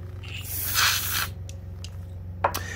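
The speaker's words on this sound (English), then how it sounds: "Where's my spray?" Aerosol spray can hissing in one long burst of about a second during electrical junction box wiring work, close and loud, followed by a few short faint clicks and a brief knock.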